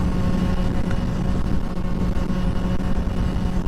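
A Honda Ruckus scooter engine held at high RPM, a steady loud drone close by with no pauses or talking.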